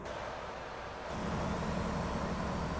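A Mack Anthem truck's engine in American Truck Simulator rumbles low and steady, building to a louder, fuller drone about a second in as the revs rise.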